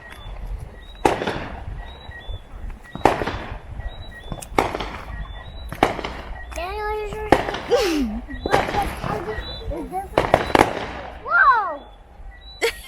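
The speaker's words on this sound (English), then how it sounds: "Got some nice fireworks." New Year fireworks in Jamaica crack and boom in repeated bursts, with whistling rockets sweeping up between them; voices talk and exclaim throughout.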